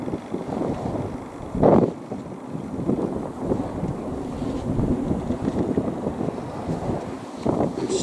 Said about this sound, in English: I'm stepping back to get out of the wind.